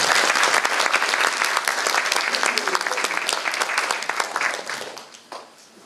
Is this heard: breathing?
no